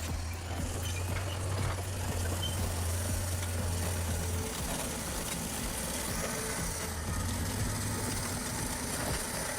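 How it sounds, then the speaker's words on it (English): A bulldozer's heavy diesel engine growls at a low, steady idle-like rumble with grinding tracks and hydraulic work at a construction site, continuous and close throughout with no voices. "The engine doesn't rev, it growls."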